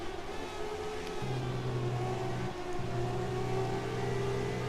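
1992 Williams Renault FW14B Formula One car in a racing video game at Silverstone, its engine droning steadily at high revs with shifting whine pitches, briefly dipping as the gear changes, with no voices.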